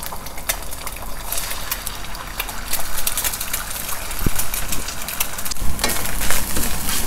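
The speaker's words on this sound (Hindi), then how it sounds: "तेल गर्म हो चुका है, अभी हम इसमें अंडे डाल देंगे।" Three eggs fry in hot oil in a pan for fried rice, producing a loud, continuous close sizzle with scattered crackles throughout.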